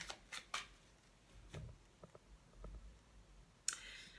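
Tarot cards are cut and handled as a sequence of soft, sparse clicks and shuffles, quiet and near, ending in a sharper snap toward the end.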